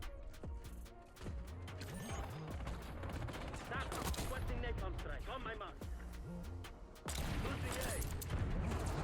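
Gunfire in Black Ops 6 with a hand cannon, loud bursts of shots and mechanical clatter running almost throughout, under constant talk.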